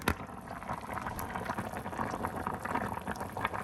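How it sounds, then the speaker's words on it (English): Soup at a rapid boil in a multi-function electric pot, with a dense, steady bubbling and churning that stays fairly loud and close throughout, with no voices over it. "So our soup is on a rapid boil, as you can see."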